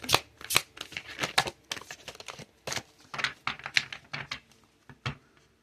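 Quick bursts of card shuffling, several riffling flurries in a row with short gaps, crisp and close, no voices.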